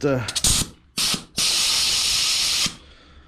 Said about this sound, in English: Let's just blow that grease out